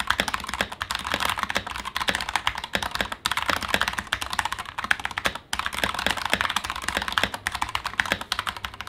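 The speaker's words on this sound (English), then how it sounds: "it's otherwise a very pleasant keyboard to use" Steady, rapid clatter of keys being typed on a computer keyboard, close and continuous with brief pauses, no voices.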